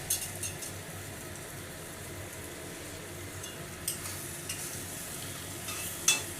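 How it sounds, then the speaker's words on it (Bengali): Spices for a Bengali fish curry with potato fry in a pan with turmeric and salt, giving a steady close sizzle broken by a few sharp clinks of a stirring spoon. "আমি মশলাটাকে দিয়ে ভালো করে কষাচ্ছি।"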